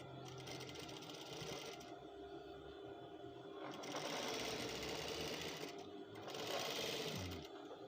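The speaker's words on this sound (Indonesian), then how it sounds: "Jangan lupa menjahit bahan birunya ke furing nih" A sewing machine stitches blue fabric to a lining, its steady mechanical whir running in long bursts that swell louder twice, with short pauses between runs and no talk.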